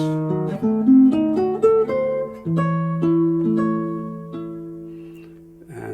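A solo classical guitar plays a quick descending run of plucked single notes, then lets the final low notes ring out clearly with no voices.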